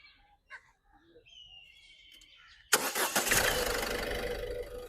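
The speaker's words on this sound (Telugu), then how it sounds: "చూసుకోవచ్చు ఎంత స్మూత్ ఉందంటే ఇంజిన్ చాలా అంటే చాలా పర్ఫెక్ట్ ఉంది సార్" A 2016 Ford EcoSport Trend+ diesel engine catches after faint chirps and clicks, then settles into a loud, steady, close-up idle rumble.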